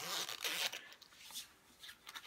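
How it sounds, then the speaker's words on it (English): A holographic jacket being zipped up, its zipper giving a few quick rasping pulls close by, loudest early and then lighter and fainter, with no talking. "And it zips up very easily, looks very good."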